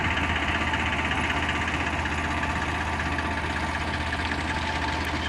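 A long line of tractor engines idles together in a steady, even, low mechanical rumble that holds at moderate distance throughout.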